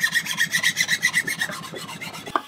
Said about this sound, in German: darum mache ich das mit dem Stein. Ziehe ich das einfach ganz fein ab.